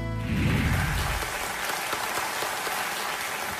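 A studio audience on the KBC quiz show applauds to welcome guests, with dense, steady clapping sustained throughout at moderate volume.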